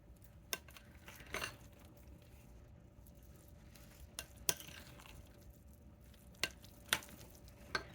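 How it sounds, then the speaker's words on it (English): Chili being stirred in a dish, giving soft scraping and clinking spoon sounds with a few sharp taps against the dish over a quiet background, no talking. "Give it a stir."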